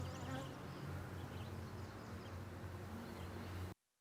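Honey bees swarm around an open hive frame of capped brood after a swarm transfer, a dense steady buzzing drone, close and continuous, cut off abruptly at the end.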